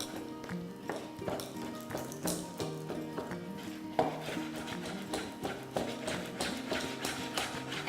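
Hand chopping of roasted aubergine on a board, a string of fairly soft, irregular knife taps close by, without talk.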